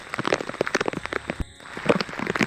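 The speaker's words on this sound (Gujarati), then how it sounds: "હવે આપણે વરસાદ ચાલુ હતો ત્યારનો વિડીયો જોઈએ" Heavy rain pours down in Porbandar during a windy storm, pattering loudly and close on surfaces with dense crackling drops and one brief lull partway through.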